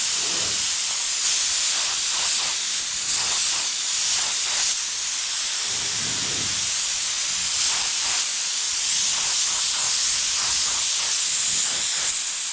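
A spray gun hisses steadily while laying a coat of blue-tinted candy paint over metal flake, a continuous close, loud spray with brief pulses as the trigger eases.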